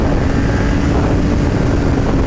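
Kawasaki ZX-10 sport motorcycle accelerating hard: a loud, steady engine roar blends with heavy wind rush for the whole stretch, with no talking.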